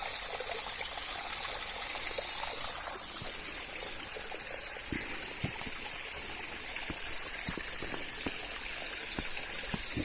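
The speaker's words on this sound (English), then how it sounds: "And then we've got this smaller waterfall" Small woodland waterfall and stream rush steadily with a constant broadband wash, a few faint birds calling in the background, no voices.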